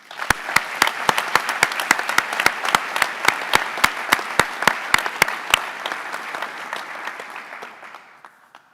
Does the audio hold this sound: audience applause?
yes